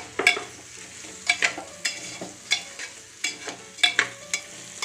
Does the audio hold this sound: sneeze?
no